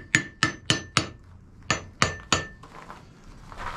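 Hammer strikes on an anvil damped with a neodymium magnet: seven sharp, evenly spaced blows in two groups, each a crisp clank with only a brief ring, followed by fainter tapping.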